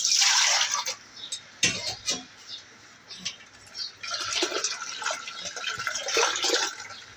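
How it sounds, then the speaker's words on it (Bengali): Boiled vermicelli is rinsed under running water, with close splashing bursts that stop and start as the strands are swished and drained, plus a few clunks, heard alone without talk. "এখন একটু পানি দিয়ে ধুয়ে নেব সেমাইটাকে।"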